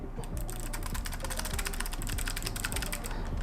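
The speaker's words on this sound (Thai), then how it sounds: "เสียงคลิกที่ชัดเจนมากๆนะครับ คล้ายๆคีย์บอร์ดแมคคานิคอล" Rapid, steady clicking of a Logitech G913 TKL gaming keyboard with clicky switches being typed on, crisp and close, with dense overlapping keystrokes throughout.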